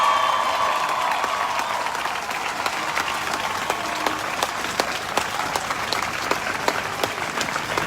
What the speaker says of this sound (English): Can we give another applause for all the black women speakers who came out tonight?